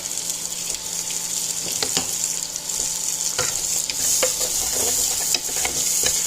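Beef stew vegetables, carrots and celery with onions, stirred in a pot over a steady sizzle, with repeated scraping clicks of the spoon against the bottom.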